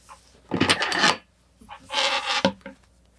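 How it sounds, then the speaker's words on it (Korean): A large zipper head on a crocheted acorn pouch scrapes against a desk, making two short rasping scratches close by, followed by a sharp click. "헤드가 커가지고 계속 이 책상에 긁히는 소리가 나네요"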